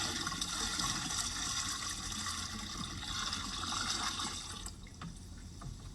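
Water is poured into a tank of jaggery and cotton cake, giving a soft continuous hiss of filling and bubbling liquid that thins out toward the end.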